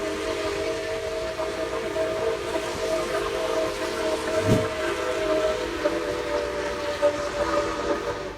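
The steam whistle of the Union Pacific Big Boy 4014 locomotive sounds briefly around the middle, rising over a steady rumbling background of train noise.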